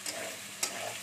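Crushed garlic fries in oil in a pan with potato and onion, a soft close sizzle with one brief scrape of a stirring spatula.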